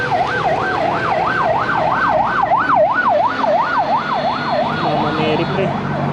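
An ambulance siren wails in a fast, regular up-and-down sweep, fairly close and loud over road and traffic noise, then breaks into a different pattern near the end.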